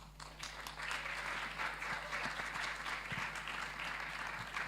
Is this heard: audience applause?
yes